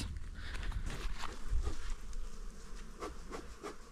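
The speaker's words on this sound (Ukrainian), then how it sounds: "Анатолій Альбінович закриває вулики." Bees buzzing around beehives while the hives are being closed up; a steady, close insect hum with some low thumps and handling noise, and no talking.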